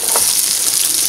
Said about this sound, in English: Now, I'm going to turn it up so I can saute my vegetables.